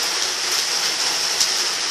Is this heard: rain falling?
yes